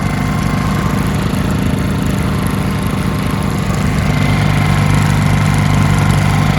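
A Harbor Freight Predator 2000W generator runs steadily at close range, a constant loud buzzing engine drone with no speech.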